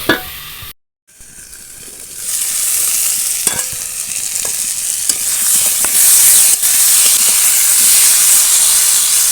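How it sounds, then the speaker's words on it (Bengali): Potato and eggplant pieces frying in a pan, a loud rising hiss and sizzle after a few opening clatters and a brief silence, with occasional stirring clicks and no talking. "আলু বেগুন অনেকটা ভাজা হয়ে গেছে"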